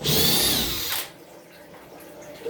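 Power drill pulling screws out of a wall during bunker work, one loud close whine of the motor for about a second, then a quiet background with light knocks.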